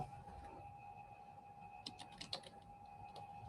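Typing on a computer keyboard comes through as a few faint, quick clusters of clicks, set against a quiet, steady electronic hum.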